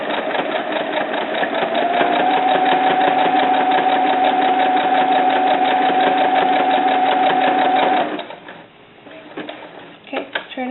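A sewing machine stitches a small doll bra, running in one continuous steady hum with a fine rapid needle rhythm for about eight seconds, then stopping, with a few soft handling knocks afterward.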